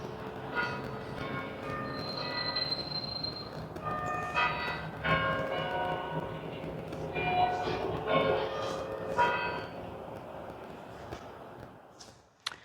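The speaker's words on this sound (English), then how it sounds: "Ooh, extra bonus chime." A small bell rings repeatedly in bright, overlapping tones that each ring on briefly, close and clear over a faint background, with a soft voice murmuring at times.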